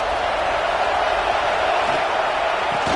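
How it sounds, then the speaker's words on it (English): A football stadium crowd roars steadily in support of its defense, a dense, continuous wash of cheering at even loudness with no breaks. "this crowd getting behind its defense"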